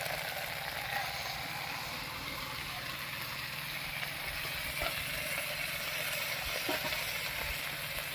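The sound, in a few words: sizzling fried spice paste with salt, turmeric and taro stalk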